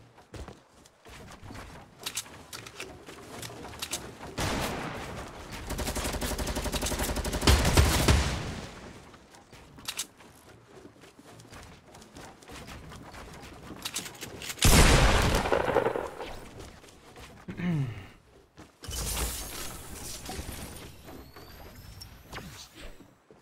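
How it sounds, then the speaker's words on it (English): Bursts of gunfire in a Fortnite-style battle game crackle in loud clusters separated by quieter stretches, including a long sustained volley near the start and sharp isolated shots later. "Wait, someone else is shooting at me."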